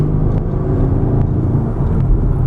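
A 2010 Chevrolet Camaro SS with a 6.2-litre LS3 V8 and a six-speed manual gives a steady, deep exhaust rumble from close by. It is a continuous low drone with no talking over it.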